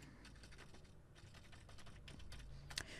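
Fingers type a password on a computer keyboard in a run of quiet, irregular key clicks, with one sharper tap near the end and low room hum underneath.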